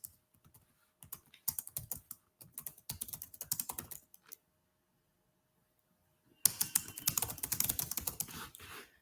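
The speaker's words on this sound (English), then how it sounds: "Just type simply like this." Computer keyboard typing, close and crisp, in two quick bursts of rapid keystrokes split by a few seconds of silence, then a final dense flurry of keys.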